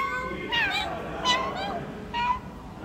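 A human voice imitates a cat's meow three times in a row, each drawn-out call standing out over a steady indoor background during a live chat stream.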